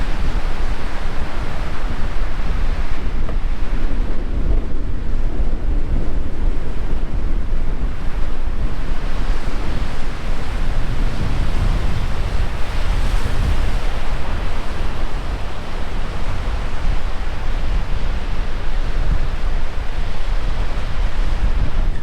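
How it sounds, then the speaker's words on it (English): Strong gusty wind roars across the microphone alongside crashing surf on the Cobourg Peninsula coast, a loud continuous rush with no voices. "Oh, it's so windy."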